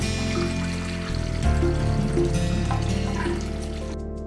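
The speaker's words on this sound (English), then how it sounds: "the water will simply flow out into the bucket" Aquarium water siphoned through a JBL AquaEx gravel cleaner hose pours steadily into a bucket, a continuous close gushing trickle under a background of music-like tones.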